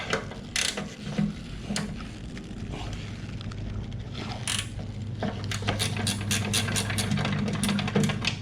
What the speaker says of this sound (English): Get your 10. Just go ahead and loosen this bolt up.